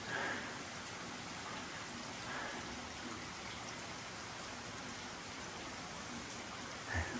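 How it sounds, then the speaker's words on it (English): Heavy rain pours down steadily and evenly as a dense, continuous hiss of drops striking surfaces, with no voices heard. "it is raining like a dog"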